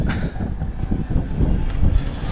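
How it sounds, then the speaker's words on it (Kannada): Low, rumbling wind buffets the microphone continuously on a rooftop, a dense roar that swells slightly toward the end, with no voices. "ಓಕೆ ಗಾಳಿ ಎಲ್ಲ ಇದೆ"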